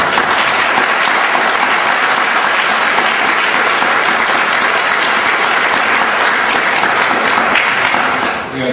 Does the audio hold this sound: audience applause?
yes